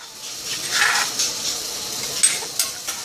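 Fish roe sour soup (tom som) with bakut leaves simmering in a pot comes through as a steady close bubbling hiss, with faint clinks and small pops near the end. No voices are heard.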